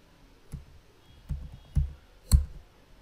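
Four sharp computer mouse clicks, spaced unevenly over a few seconds, close and fairly crisp against a quiet room.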